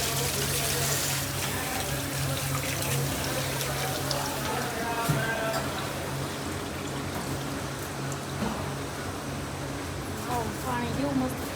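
Water running and splashing steadily from a tap at night in Surat as people wash their hands, a continuous hiss under ongoing chatter from several voices.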